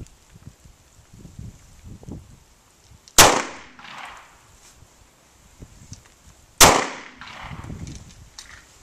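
Two sharp, loud pistol shots from a Kel-Tec PF9, spaced a few seconds apart at an outdoor range, each with a short echoing tail and faint shuffling between.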